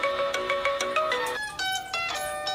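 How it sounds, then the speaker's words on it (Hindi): A mobile phone ringtone plays alone, a bright repeating electronic melody of chiming tones that continues steadily through the moment in a Chhattisgarhi comedy scene. "अरे काका फोन आ गया यार"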